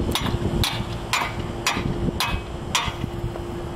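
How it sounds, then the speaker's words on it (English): Sharp metallic hammer strikes ring out at a steady rhythm, driving the driver-side axle out of the hub on a 2007-2014 Nissan Altima, about seven blows in under four seconds, close up over a faint background hum. "now we're gonna go ahead and push the rest of the axle through using our hammer"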